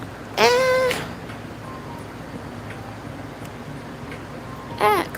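A house cat meows twice, the first loud close call near the start and a second shorter meow near the end, set against a quiet indoor room tone.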